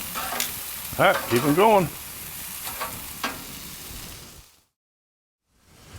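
Chicken wings sizzle on a Mesa 420MF griddle, a steady frying hiss running beneath a short burst of nearby talk before it cuts off to silence near the end.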